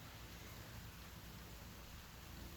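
Steady rain falls outside on a dark, muggy day, a faint, even hiss of drops with no voices.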